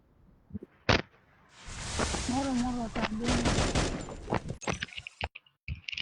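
Gunfire in the Free Fire video game cracks out in sharp bursts and single shots, mixed with in-game effects and tonal chimes, while someone talks excitedly over the action.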